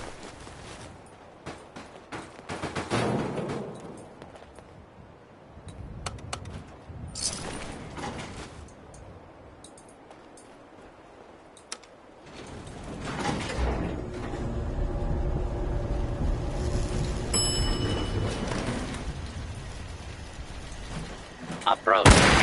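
Gunfire in an action video game, bursts of shots and heavy impacts mixed with loud game noise and rumble, with bouts of quieter ambience between.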